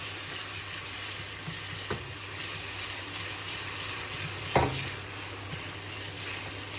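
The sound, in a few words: stirring mung bean curry in a pot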